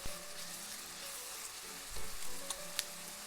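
Dried pollock soup cooking down in a pot, a faint steady bubbling sizzle with a couple of low knocks and brief clinks, no voices.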